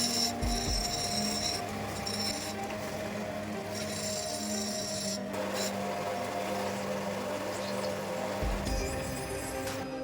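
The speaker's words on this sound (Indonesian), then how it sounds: "kita haluskan dengan diamond wheel yang kasar, juga diamond yang halus" A coarse diamond wheel grinds a gemstone smooth, giving a continuous gritty rasping drone with slight swells and dips in pressure, close up and steady throughout.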